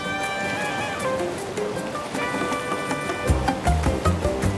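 River water rushing and splashing while rafting on a Cusco region river in Peru, a continuous broad roar with churning surges, heavier thumping splashes toward the end, no speech.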